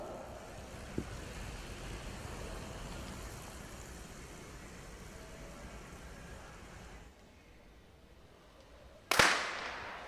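A starter pistol fires at the start of a junior men's track cycling scratch race at a velodrome during the Canadian championships: one sharp, loud crack near the end, following a long stretch of quiet indoor ambience and a brief hush.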